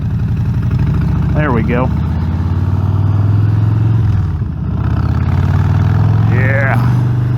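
Motorcycle engine and exhaust pipes heard while riding, a steady loud low rumble running throughout with a brief dip near the middle, under close speech from the rider.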